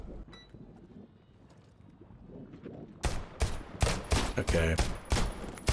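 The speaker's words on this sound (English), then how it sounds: "they just started shooting me" Gunfire in the video game Deceit 2 bursts in after about three seconds as a rapid string of sharp, loud shots. A quiet, low-level game soundscape comes before it, and a voice speaks one brief word.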